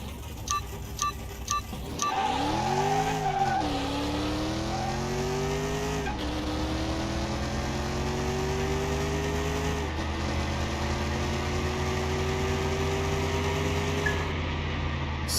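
A 1969 Camaro hot rod fitted with a modern engine in Car Mechanic Simulator 2021 revs up loudly and pulls through several rising gear changes, a steady engine drone with no talking over it.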